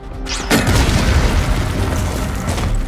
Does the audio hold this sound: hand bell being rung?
no